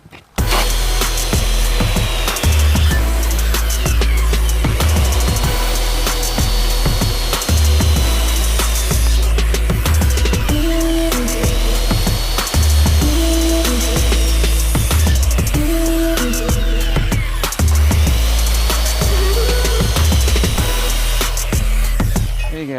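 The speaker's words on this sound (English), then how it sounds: "Definitely do not stick your hands underneath there because your saw's on a bevel now" A power saw set on a bevel cuts through a wooden mailbox post in several loud passes, the motor whining up and biting into the wood, then easing off between cuts.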